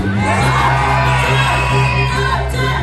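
A packed concert audience in Terrebonne, Quebec, shouts and whoops as loudly as it can, a dense, sustained roar of voices filling the whole stretch at close range.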